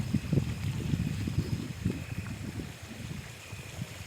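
Irrigation water flowing steadily across a farm field after the morning power supply comes on, a continuous low rushing with soft gurgles, close and fairly even throughout.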